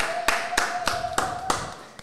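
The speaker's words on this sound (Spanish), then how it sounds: "Vamos a recibir con un fuerte aplauso" Sparse, slow hand claps, about six sharp evenly spaced claps, welcome a singer at an interview, fairly close and quiet, with a faint steady tone and light voice underneath.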